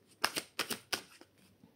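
Tarot cards being drawn and handled on a table during a reading: a few quick, soft papery flicks and slaps in close succession, faint and near, with no talking.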